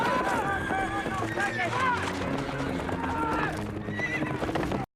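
Horses in a Game of Thrones scene neigh and whinny repeatedly over steady galloping hooves, loud and continuous, mixed with a dense soundtrack layer.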